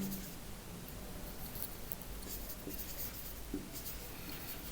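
Chalk or a pen writes examples on a board in a classroom lecture. The soft, scratchy strokes come in short, irregular bursts and stay faint and close, with no talking.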